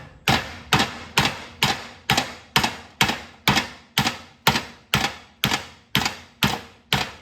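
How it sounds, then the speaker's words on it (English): A brass hammer strikes a deck bearing part from a John Deere 318 mower held in a vise, over and over. The sharp metallic blows land at a steady, roughly half-second rhythm, loud and close, with no talking. "I'm using a brass hammer"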